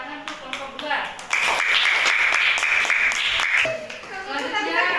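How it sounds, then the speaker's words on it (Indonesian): Classroom applause for a student group after their presentation, a burst of clapping from many children lasting a couple of seconds, with young voices cheering and a teacher speaking before and after. "kasih tepuk tangan untuk kelompok 2"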